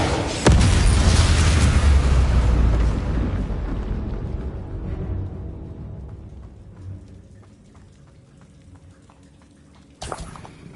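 A Confringo blasting spell in a Harry Potter video game detonates in a loud, close boom that rumbles and slowly fades over several seconds, followed near the end by a second, sharper blast.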